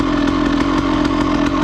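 A Honda CR250 two-stroke motorcycle engine runs loud and close after carburetor tuning, a steady raspy drone with a rapid pulsing beat and no pauses.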